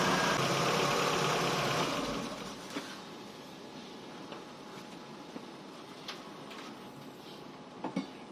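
A Chevrolet Aveo engine idles steadily up close, then winds down and stops about two seconds in, leaving a quiet room with faint clicks and taps.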